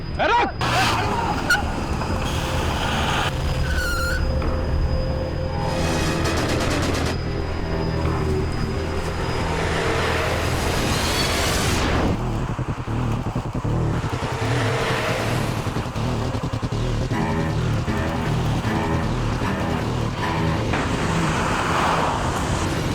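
Cars driving fast on a road, engines roaring steadily with brief tire squeal and whooshing pass-bys, loud and continuous for the whole stretch with voices mixed in underneath.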